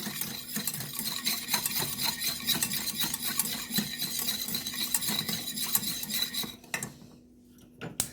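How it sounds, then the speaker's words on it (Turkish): A spoon stirs sugar into a mixture for a watermelon cake, clinking quickly and repeatedly against the bowl at a moderate level, close by; it stops near the end and leaves a quiet tail. "Beraber hepsini karıştırıyorum."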